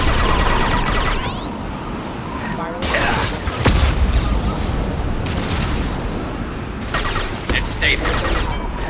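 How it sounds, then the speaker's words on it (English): Flashbang grenades and gunfire in a Mass Effect 2 firefight: repeated sharp bangs and blasts over several seconds, with a whooshing sweep early on and voices calling out amid the combat. "Watch out, flashbang!"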